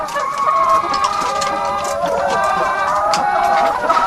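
Rooster and hens clucking together in a yard, a steady chorus of overlapping clucks with a crow rising among them, fairly close and continuous.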